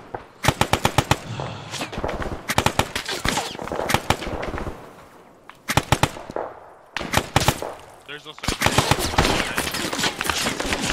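Machine-gun bursts in Operation Avalanche, set in the Battle of Salerno, fired at a jeep on a road: repeated loud, rapid rattling volleys broken by short pauses.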